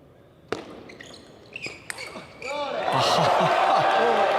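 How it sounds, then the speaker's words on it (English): Fireworks go off at the start of a table tennis final in an indoor arena: sharp bangs and pops, then whistling rising streaks, building into a loud sustained crackling roar. "normally you save the fireworks for the end of the show. These are being set off at the very start."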